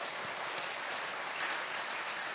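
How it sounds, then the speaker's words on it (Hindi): An audience at a religious gathering claps continuously, a dense even wash of many hands, fairly loud and sustained without pause. "ताली तो बजा दीजिए ऐसे।"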